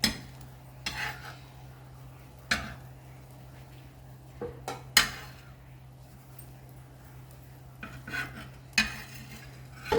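A bread omelette being cooked and turned in a pan, with sharp scattered clinks of a spatula against the pan over a steady low hum, the clatter irregular and close.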